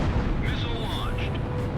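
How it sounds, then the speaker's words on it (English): Missile launch in the flight combat game Ace Combat Zero: a brief whooshing release with faint rising tones, close and steady, riding over a dense continuous rumble of game noise. "Missile launched."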